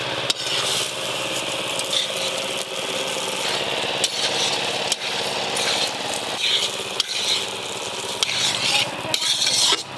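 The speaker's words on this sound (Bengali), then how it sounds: "সাথে চালটা ভালো করে ভেজে নিয়েছি" Rice sizzling and stirred in hot ghee with whole garam masala, bay leaves and raisins for basanti pulao; a steady, close frying hiss runs throughout with frequent scraping stir strokes and occasional utensil clinks, no talking.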